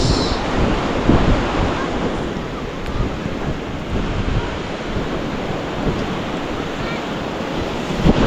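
Ocean waves wash onto a shore in a continuous broad roar, with wind buffeting the microphone and no clear voices.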